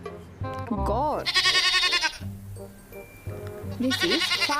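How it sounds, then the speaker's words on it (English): A goat bleats in loud, wavering, nasal cries, two main calls close together with a pause between, while a person briefly speaks in the clip. "Goat."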